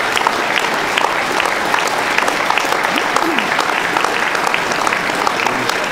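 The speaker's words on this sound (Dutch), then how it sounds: "die mag je terecht een heel hard applaus geven hoor. Den Buff." At an awards announcement event, a large audience gives loud, sustained applause, a dense continuous roar of clapping with faint whoops rising through it.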